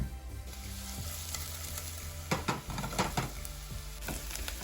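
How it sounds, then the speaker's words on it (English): Onions sautéing in a little oil in a medium saucepan, a steady soft sizzle with occasional louder scraping stirs, close and alone with no talking. "we're going to add a little bit of oil to a medium-sized saucepan and saute our onions until they're browned"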